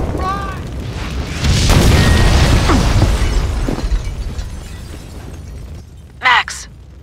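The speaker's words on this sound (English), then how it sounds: "The building's blowing up." A building explodes in the video game Max Payne 2, a loud sustained boom and crumbling roar with debris and shattering that slowly fades, followed by a short sharp burst near the end, with shouting voices under it.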